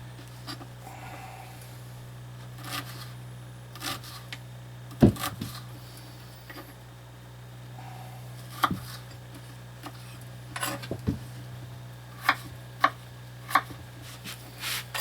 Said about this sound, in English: We'll chop up some onions here.